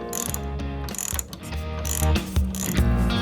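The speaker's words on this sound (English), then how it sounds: "that's a 3/8 inch ratchet, and that is a 1/2 inch socket." Steady ratcheting clicks from a 3/8 inch ratchet turning a 1/2 inch socket to back out a bolt on a flood-damaged Newmar Dutch Star motorhome, close and continuous with no talking.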